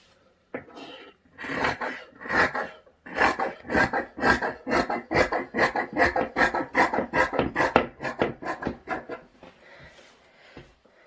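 Scissors snip through fabric while a summer frock is cut out, a fast train of sharp crisp cuts, close and loud, following a few slower strokes and then trailing off.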